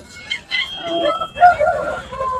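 A rooster crows loudly nearby at a livestock market, a drawn-out cock-a-doodle-doo, with some clucking from other fowl around it.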